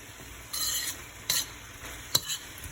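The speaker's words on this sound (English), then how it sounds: "So I'm going to cut it up a little bit just to go ahead and cook the shrimp." Shrimp cooking in a pan over low heat for a stir fry: quiet background hiss broken by a few short scraping, sizzling bursts as the food is moved, with one sharp clink near the end.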